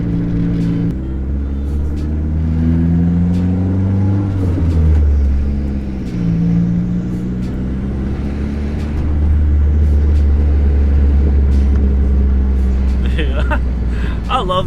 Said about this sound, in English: the car vibrates like crazy